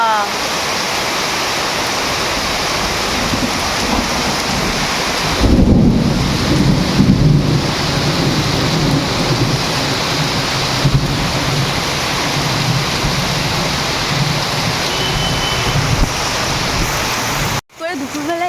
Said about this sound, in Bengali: এখন যা বৃষ্টি হচ্ছে না ভীষণ বৃষ্টি